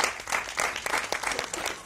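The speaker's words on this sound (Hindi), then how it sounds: "ये तालियों की जो आवाज है ये थोड़ी ज्यादा होनी चाहिए" Applause from an event audience welcoming Iqbal Mamdani on stage at a film cast gathering, a steady dense patter of many hands held at an even level for the whole stretch, with a few stray voices mixed in.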